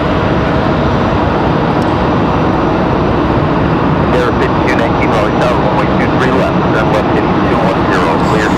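An airliner at Raleigh Durham airport gives off a loud, continuous jet roar that fills the whole stretch, with people talking faintly beneath it.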